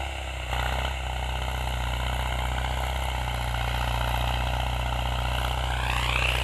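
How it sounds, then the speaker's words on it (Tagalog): A tractor engine drones steadily in a rice field during broadcast planting, a loud continuous hum with a rising whine near the end, no voices. "Actually, yung tunog dun sa likod ko is yung traktora po yun."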